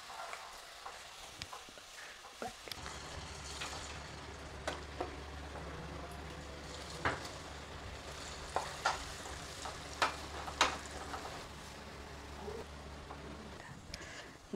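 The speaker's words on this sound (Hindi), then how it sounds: "तेल अच्छा गर्म है, अब इसमें पकौड़ा को डालते हैं" Peanut masala pakoras frying in hot oil over a low flame, a steady low sizzle with soft crackles and occasional sharp pops and scrapes of a spoon stirring, close and alone without talk.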